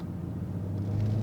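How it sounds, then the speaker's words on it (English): A BMW M340i driven fast gives a low, steady exhaust rumble that stays fairly quiet and continuous throughout. "here you are going so fast with such a nice exhaust sound"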